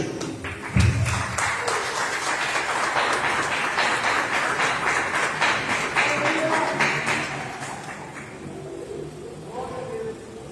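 A church congregation claps along during worship, a steady rhythmic patter of many hands that continues for several seconds, then fades near the end, with voices mixed underneath.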